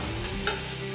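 Vegetables softening in a pan for pepper steak make a soft, continuous sizzle with a faint scrape of stirring, heard up close for about a second with no talking.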